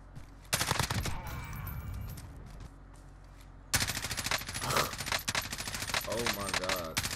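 Rapid automatic gunfire in Modern Warfare, close bursts of shots in two stretches separated by a brief lull, with a voice briefly heard between them.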